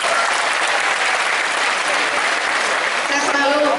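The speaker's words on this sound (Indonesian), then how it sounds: "Tepuk tangan buat kita semua." An audience of young people at an Islamic stand-up comedy show in Banda Aceh claps, a dense, even roar of applause that holds steady the whole time, with voices faintly mixed in near the end.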